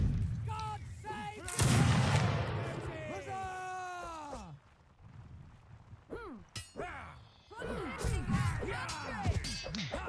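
Musket volleys crack and boom during a Mount & Blade online league battle, with several sharp shots and clanging bursts. Excited voices talk over and between the firing throughout.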